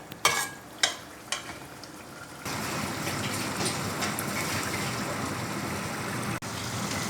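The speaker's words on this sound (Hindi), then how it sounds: "तो चले गोश्त की बनाई करते हैं।" Chicken and meat with tinda stir-fry in a pot, opening with a few scraping stirs before a loud, steady sizzle and crackle of frying takes over and runs unbroken to the end.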